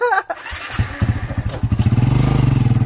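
A manual-shift motorcycle engine sputters and chugs nearby, its rapid pulsing firing settling into a steady putter after a brief voice at the start.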